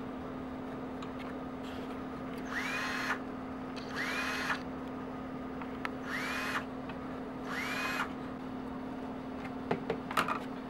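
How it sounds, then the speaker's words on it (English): A countersink bit cleans up and rims drilled holes in a Kydex holster, giving four evenly spaced whirring grinding passes of about a second each, separated by pauses over a steady motor hum, fairly close and moderate in loudness. "getting a nice rim with the countersink here around each hole"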